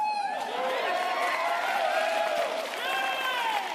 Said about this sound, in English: And everybody cheering